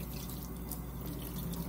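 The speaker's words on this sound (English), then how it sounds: "Rinse your beeswax wrap." Running water at a sink rinsing a beeswax food wrap, a steady soft splash and trickle under the tap, quiet and continuous throughout.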